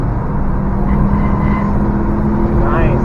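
2013 Subaru Impreza WRX driven hard on a track while braking, engine droning loud and close with a steady rumble inside the car, revs dropping slightly, voices speaking over it.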